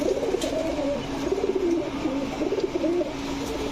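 Pigeons coo steadily at a pigeon sale, with several overlapping rolling, throaty calls that carry on without a break against a low background hum.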